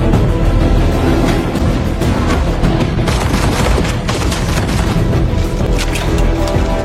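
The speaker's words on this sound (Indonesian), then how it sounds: "Adu tembak dan kejar-kejaran pun terjadi" Film shootout with loud, dense bursts of gunfire and booming blasts, layered with heavy action-scene sound throughout, no talk.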